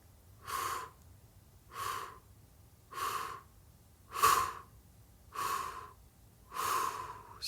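During a calming breathing exercise, six even, breathy airflows come close to the mic at a slow, regular pace, each rising and fading, with quiet gaps between.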